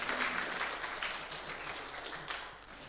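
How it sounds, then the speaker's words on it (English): An audience at a Kenyan film summit award ceremony at KCA University applauds, a faint, steady wash of many hands clapping that slowly tapers. "Please give a round of applause for Mr. Lamek Angila as he comes forward."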